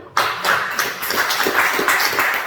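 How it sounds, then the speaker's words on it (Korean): An audience in a church service claps, with a sharp onset just after the start followed by loud, dense and steady applause that lasts to the end without speech. "박수 한번 주시죠"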